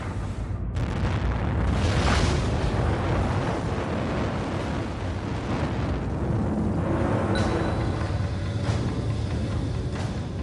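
A simulated Yellowstone supervolcano mega-eruption roars as a dense, sustained explosive rumble with wind-like noise and a few sharper bursts, loud and continuous throughout.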